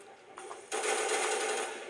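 HK21 machine gun fire in a Call of Duty match on PS3: a sudden, loud sustained burst of rapid automatic shots that starts partway through and keeps going, with fainter action beforehand.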